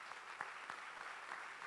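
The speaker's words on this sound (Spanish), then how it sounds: "¿Cuánto aplauden a Dios por eso?" A church congregation claps during a sermon, a faint, distant patter of scattered applause with a few sharper claps standing out.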